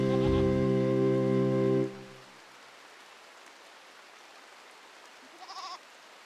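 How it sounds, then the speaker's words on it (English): A goat in RimWorld gives a long, loud harmonic bleat that cuts off, leaving quiet rain-like ambience, then a short faint bleat or chirp follows near the end. "Oh no, the goats."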